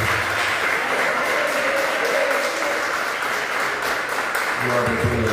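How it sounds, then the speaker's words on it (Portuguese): A church congregation claps steadily and loudly throughout, a dense sustained applause with a voice faintly audible beneath it. "As palmas do novo Senhor bem forte em nome do Senhor Jesus."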